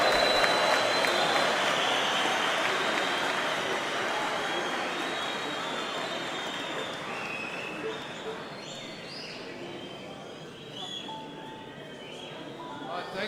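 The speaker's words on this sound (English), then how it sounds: "Give yourselves a round of applause." School students at a speech day in an assembly hall burst into a big round of applause that is loud and dense at first and then gradually thins out. Scattered claps and faint background voices remain near the end.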